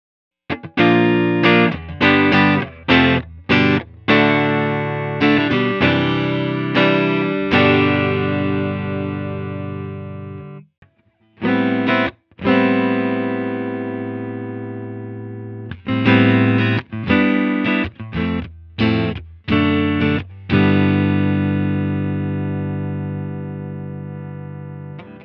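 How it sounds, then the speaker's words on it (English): Electric guitar played through a Strymon Iridium modeling a mid-60s Fender Deluxe Reverb amp: strummed chords and ringing sustained notes in phrases, with pauses and decaying tails, warm and slightly driven, close with no talking. "on the mid-60s Fender Deluxe Reverb, which is one of the most recorded amplifiers in history."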